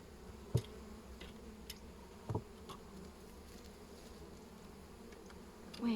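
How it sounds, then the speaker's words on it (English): Soft, steady buzzing of bees around a hive fills the background, with a few brief clicks and bumps scattered through; quiet and fairly close, no voices. "Obviously there's some confused bees there."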